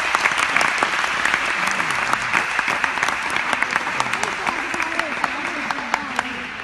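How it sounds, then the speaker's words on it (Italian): A group at a training stage breaks into loud, close applause with sharp individual claps, while people talk and call out over it as the clapping gradually thins. "Quindi facciamo un applauso a loro prima di tutto."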